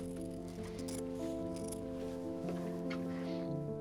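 Scissors snip and slice in a few quick, crisp cuts close up, heard over a steady background of sustained musical tones.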